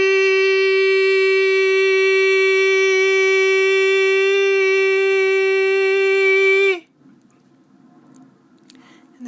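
A single voice tones a sustained, high-pitched "E" vowel for an energizing exercise. The note is loud and rich in harmonics, holds steady for about seven seconds, then stops abruptly into near silence.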